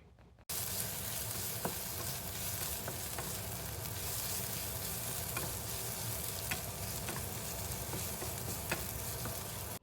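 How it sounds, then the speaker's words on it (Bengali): Onions, potatoes and garlic fry in a pan being stirred while Maggi is made on a river boat, a steady loud sizzle with scattered scraping clicks from the stirring, with no talking. "দেখুন এখানে পেঁয়াজ আর আলু এদিকে ফ্রাই হচ্ছে"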